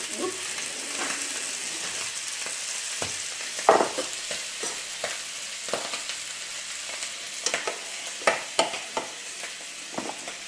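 Scallops (Saint-Jacques) sear in a hot pan with a steady sizzle, broken by several sharp clinks and scrapes of stirring or moving them around.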